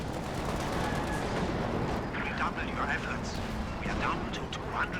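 Gunfire from StuG assault guns in Company of Heroes 2, a dense, continuous wash of battle noise with repeated sharp cracks and bursts through the clip, loud and busy, with a voice talking over it.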